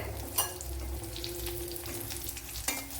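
Soya chunks fry in hot oil in a pan, giving a steady close sizzle with two brief clinks or stirs, and no one speaks.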